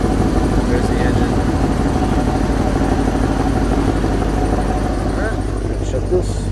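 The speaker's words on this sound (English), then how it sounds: "There's the engine." The engine of a 2008 GMC chipper body truck idles with a steady, dense low rumble that holds unchanged, close up, with faint clicks near the end.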